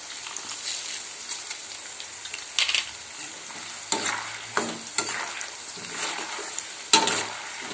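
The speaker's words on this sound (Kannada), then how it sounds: "ಸಾಸಿವೆ ಜೀರಿಗೆನು ಸೇರಿಸಿದೆ ಇಷ್ಟು ಎಣ್ಣೆಯಲ್ಲಿ ಇದಾಗುತ್ತೆ ಅದು ಚಟಪಟ ಅಂದತ್ತೆ" Mustard seeds and cumin crackling and popping in hot oil, a continuous sizzle punctuated by sharp spluttering bursts, close and fairly loud with no voices.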